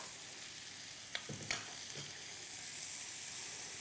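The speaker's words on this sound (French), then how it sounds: "Et on caramélise notre oignon" Onion caramelizing in a pan with butter or margarine, a steady soft sizzle with a couple of brief stirring scrapes early on, close and continuous.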